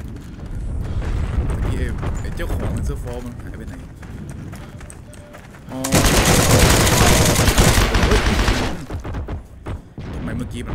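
Sustained burst of gunfire in the online war game Heroes & Generals, loud and dense from about six seconds on, with earlier scattered shots and clatter under someone talking in Thai.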